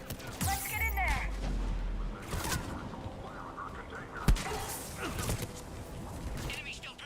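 Gunfire crackles through a Mass Effect 3 firefight at a checkpoint on Sur'Kesh, with sharp shots and one louder impact mixed under ongoing talk and combat noise.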